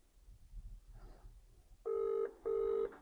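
A telephone call begins with soft tones, then two loud, even ringback tones sound in succession over a low background hum.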